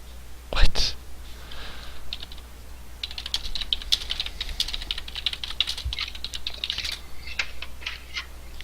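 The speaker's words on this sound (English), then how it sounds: "How can you not hear me but you can hear my typing?" Fingers type on a computer keyboard in uneven bursts of close, crisp clicks, with a louder thump near the start and short pauses between flurries.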